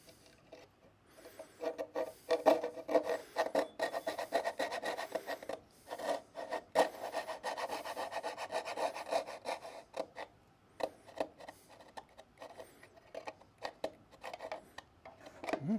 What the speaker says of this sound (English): I'll maybe sand it with some 220 grit just to get it smoothed out